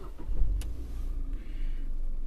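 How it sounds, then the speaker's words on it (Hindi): A Tata Tigor three-cylinder petrol engine starts up from close by, with a brief cranking burst and a sharp click, then settles into a low, steady idle rumble. "जैसे मैं आपको दिखा देता हूँ अभी स्टार्ट करके गाड़ी"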